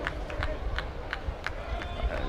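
Scattered clapping from spectators at an RPI college football game against MIT, a loose series of sharp hand claps repeating across the field under a steady crowd murmur.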